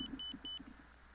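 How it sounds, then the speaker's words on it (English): Cockpit warning beeps in Microsoft Flight Simulator 2024: three short, evenly spaced high electronic tones repeat over a steady low engine hum, fairly loud and close. "What's the beeping noise?"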